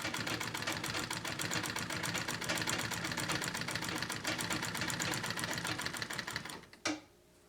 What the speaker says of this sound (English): all of that sewing, and I had run out of bobbin